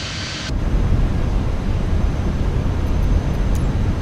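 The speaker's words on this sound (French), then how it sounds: "Le pilote remet les gaz, pleine puissance, on rentre notre atterrissage et on repart." An airliner's engines roar at full power during a go-around at Nantes in bad weather, a steady, loud, broadband rumble that holds throughout with no voices.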